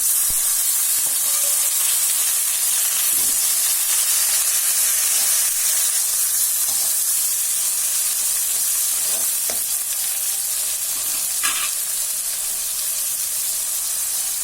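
Tomatoes frying with onion in a pan for a potato and green pea puri kurma, a loud, steady sizzle with occasional stirring scrapes, close up and without speech.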